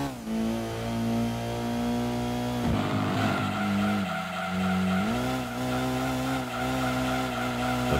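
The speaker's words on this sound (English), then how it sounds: "driving an NSX Type S0 for this one" A Honda NSX Type S in Gran Turismo 2 drives hard, its steady engine drone rising and dipping through gear changes while tires squeal and skid around corners, loud and continuous with no talking.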